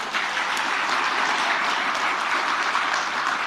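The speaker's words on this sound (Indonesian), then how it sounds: "tepuk tangan aja kan kelihatan loh nggak meriah" A crowd applauds at a political speech during a book launch in Indonesia, a dense, steady patter of many hands clapping that fills the room evenly for several seconds without any voices over it.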